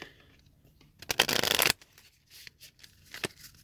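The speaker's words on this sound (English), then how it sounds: "Shuffle the camp deck." A deck of cards for the card game Radlands being riffle-shuffled close by, one dense burst of fluttering cards lasting about half a second, followed by quieter handling taps.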